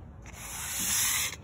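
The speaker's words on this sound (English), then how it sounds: "So as you can see, I've started sanding it. I'm using some medium grit paper." Medium grit sandpaper rubs by hand over a patio umbrella base, a steady close scratchy hiss swelling and fading in one continuous stroke, with no talk.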